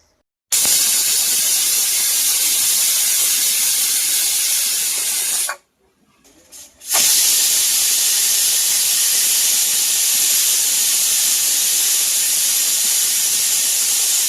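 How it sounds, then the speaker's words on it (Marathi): A pressure cooker on a gas stove, cooking dal and rice, lets out a loud, continuous hissing steam whistle that cuts out briefly midway, then resumes just as strongly. "गॅसवर ठेवते कुकर. आता 4 शिट्ट्या होऊन देते."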